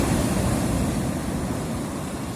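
Sea waves wash onto the shore in a continuous broad roar mixed with wind buffeting the microphone, fairly loud and close, easing slightly toward the end.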